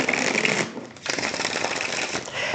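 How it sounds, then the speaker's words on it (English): Deck of tarot cards being shuffled close up, a steady papery riffling that breaks off briefly partway through and then resumes, loud and continuous with no talk over it. "So we're going to shuffle the cards a few more times."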